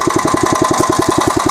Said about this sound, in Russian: Мотоблок там едет без меня